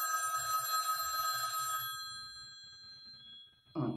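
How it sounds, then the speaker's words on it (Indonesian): A telephone bell rings shrill and steady for about two seconds, then stops, leaving a low murmur and a brief thump at the end. "ini ada telepon dari mana ini?"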